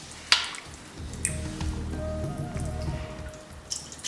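Beef in a sauce of light soy, brown sugar, water and oyster sauce is tossed in a wok, giving wet sizzling, squishing and dripping sounds with a few sharp clacks, and no talking.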